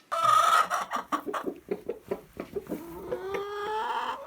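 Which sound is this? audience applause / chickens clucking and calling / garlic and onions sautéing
chickens clucking and calling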